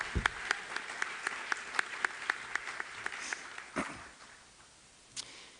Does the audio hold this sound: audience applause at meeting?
yes